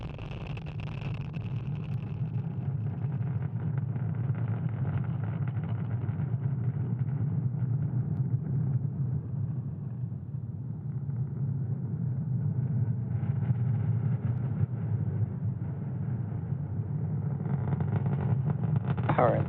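SpaceX Falcon 9 rocket engines roar during ascent on a Starlink launch, a steady low rumbling drone that persists throughout, moderately loud and distant-sounding without pauses.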